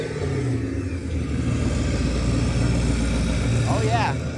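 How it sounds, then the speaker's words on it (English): A Tesla electric car plays a synthetic engine rumble through a speaker under the car, a steady mid-pitched drone that swells slightly as if revving, with a person speaking over it. "Even though this is an electric car, it actually makes engine noises."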